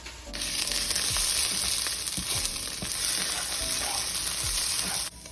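Cumin, coriander and chili spices frying hard in hot oil for an Indian butter chicken, a loud, steady, dense sizzle with a few soft stirring knocks, then cutting off abruptly near the end.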